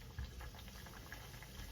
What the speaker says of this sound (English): We will fry these till these are like nice and golden in color so that they turn out to be crispy.